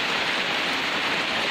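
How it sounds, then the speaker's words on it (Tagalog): Steady, dense rain drums on a damaged corrugated metal roof, a constant hiss with no pauses and no voices. "Sana titigil na yung ulan."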